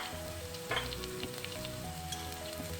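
Kashmiri chili powder sizzles in a frying pan of hot oil and garlic for a shredded fish stir fry, a steady close crackle with a brief stirring swell partway through.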